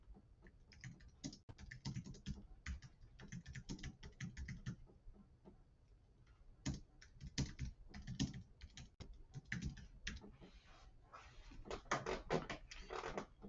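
A computer keyboard is typed on in quiet bursts of rapid key clicks with short pauses between runs, faint and close with no talking.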